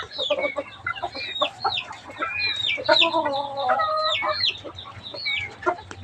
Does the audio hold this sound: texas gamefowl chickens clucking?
yes